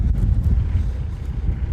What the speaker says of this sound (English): the wind came up, and the cold front we were expecting finally hit